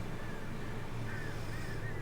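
Crows caw in Alan Wake Remastered, a few faint rising calls drifting over a steady dense rumble of game ambience.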